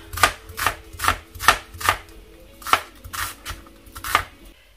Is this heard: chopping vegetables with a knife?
yes